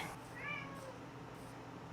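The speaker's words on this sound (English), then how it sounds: "I don't know if you can hear my cat screaming in the background" A house cat lets out a single drawn-out meow in the background, faint and distant against a steady low room hum, with no talking.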